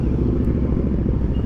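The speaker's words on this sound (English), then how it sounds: "All the bikes are started, engines revved up." Honda CBR600 F and other 600cc and 1000cc superbikes idling and revving together, a loud continuous low engine rumble close by, steady with no talk.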